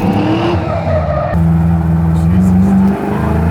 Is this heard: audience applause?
no